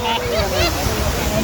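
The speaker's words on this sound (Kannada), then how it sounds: "ಸೊ ಅಲ್ಲಿಂದ ನೋಡಿ ಮೂಲೆಯಿಂದ ನೀರು ಬರ್ತಾ ಇದ್ದಾವೆ" Water pours down a waterfall in a dense, steady roar that fills the clip, with a voice faintly riding over the rush.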